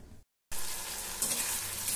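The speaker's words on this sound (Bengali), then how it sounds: "এখানে আমি মটর পনিরের জন্য টমেটোটা ভেজে নিচ্ছি" Tomatoes fry in a pan for matar paneer, a dense, steady sizzle close up that cuts out briefly near the start and then resumes loudly.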